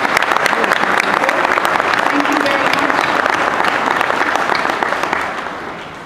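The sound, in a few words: audience applause for honor guard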